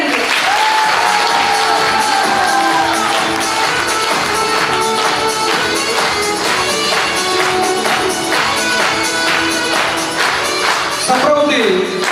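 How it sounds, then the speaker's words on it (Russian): An audience gives loud, sustained applause to couples on stage at a contest show. Dense clapping continues for the whole stretch, with scattered cheers and whoops, and music sounds faintly underneath. "мы дарим вам бурные аплодисменты"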